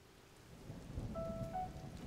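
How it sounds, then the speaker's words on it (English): Faint, steady rain hiss with a low rumbling thunder swell in the Zelda: Tears of the Kingdom game, with a thin tonal chime partway through. "And it's raining."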